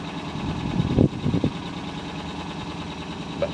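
A cold Lomax 224 kit car built on a Citroen 2CV runs steadily with its small engine under choke, a low even idle carrying a couple of brief louder surges early on, heard close with no one talking.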